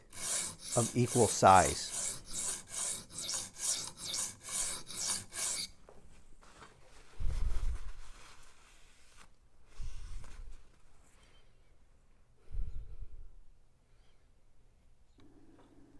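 A Rough Ryder Half Hawk knife is stroked along a sharpener with 3D-printed angle guides: around ten quick, even rasping passes up close, then near silence broken by a few soft knocks, with a voice speaking briefly.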